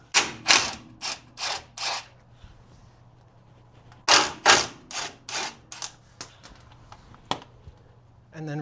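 Impact gun zipping out the half-inch front shock bolts on a G-body car during a Bilstein shock install, heard as two loud clusters of rapid hammering bursts, four or five each, separated by a quieter pause with faint ticks.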